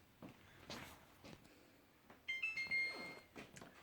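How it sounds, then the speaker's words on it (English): A few short electronic kitchen timer beeps ring out clearly mid-clip, bright and tonal, amid quiet kitchen clatter and low background noise. "That's the beep."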